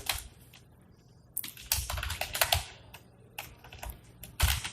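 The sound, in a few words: typing code on a computer keyboard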